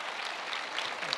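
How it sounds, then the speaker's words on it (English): Applause from an audience at a church gathering for a departing leader, a soft, fairly distant patter of many hands clapping continuously through the moment. "So let's give him a round of applause."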